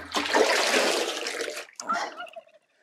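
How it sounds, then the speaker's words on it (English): Running water rinses off a freshly scrubbed item in a short burst of splashing and gurgling, then a brief pause and a second, shorter gush that fades out. "What we do then is just rinse it off."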